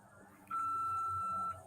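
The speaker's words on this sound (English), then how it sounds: "Leave a message after the beep." A single steady electronic voicemail beep sounds for about a second, clean and clear, then cuts off, with quiet background before and after.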